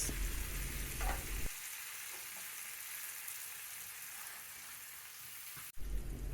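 Mushrooms frying in a pan, a dense crackling sizzle that surges loudly as they go in, settles to a steadier hiss, then briefly flares again at the end.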